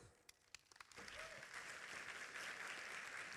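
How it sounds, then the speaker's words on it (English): An audience at a conference session breaks into applause, a few scattered claps first and then a steady, fairly distant wash of clapping that continues to the end. "applause."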